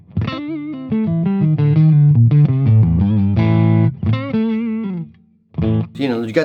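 A late-1990s Mexican Telecaster electric guitar with a G bender, played on the neck pickup through an overdrive pedal: a loud, warm, driven phrase of bent single notes and short chords with brief pauses and a few final stabs.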